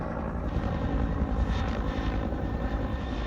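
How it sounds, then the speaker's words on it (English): A helicopter flying overhead, a steady broadband rotor and engine rumble that stays loud and constant for the whole stretch, with no voices. "There's another chopper in the air"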